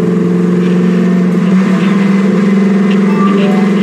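A Lamborghini's engine in a video game hums steadily and loudly at a constant pitch, with no clear revving.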